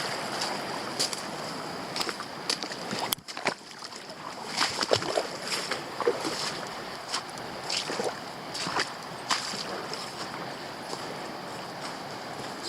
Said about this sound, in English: I'm gonna have to walk through the creek